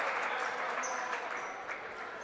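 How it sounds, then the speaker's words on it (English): A gym crowd at a high school basketball game applauds a player leaving the court, with steady clapping throughout and faint background chatter. "Moodie gets a well-deserved round of applause as he checks out of the game."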